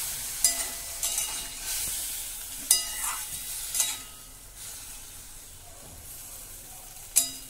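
Water poured over vegetables frying in a hot pan for a Bengali vegetarian chorchori, giving a steady sizzle with a few sharp clinks of a spoon against the pan, close and without talk.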